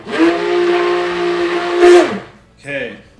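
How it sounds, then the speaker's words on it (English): A stick blender mixes oils for cold process soap at low speed, a steady high-pitched motor whine for about two seconds, then cuts off, followed by a brief softer burst of whirring. "I'm just going to mix up my oils at a low speed, making sure to keep the blender underneath"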